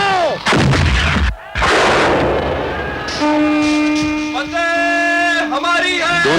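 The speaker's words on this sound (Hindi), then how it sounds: "तोपें चलाओ!" Heavy cannon blasts boom loudly in a battle scene, followed by rumbling and a sustained horn-like tone with warbling overtones, all thick and close.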